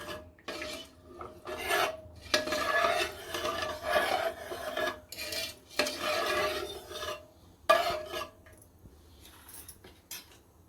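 A spoon scraping and stirring masala and water around a pan for Koli-style dal, repeated rasping strokes in uneven bursts with short pauses between, close and clear, no speech.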